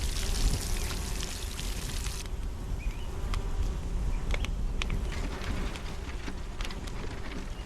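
Crops get watered in the video game SolarPunk with a continuous, hissing splash of pouring water that stays close and even, broken by scattered light drips and taps, with no talking.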